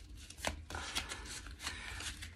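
A deck of cards being shuffled, a quick run of crisp riffling clicks and flutters close by, with no talking.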